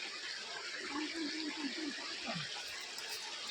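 A babbling stream runs over its rocky river bed at Dugve in Ratnagiri, Konkan, a steady broadband rush of flowing water with a faint voice murmuring beneath it.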